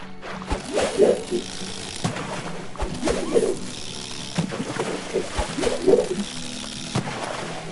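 Wing flaps of a bird flying in a video game come in a steady repeating rhythm of soft whooshing beats, with a low cooing and mechanical clicking in the background.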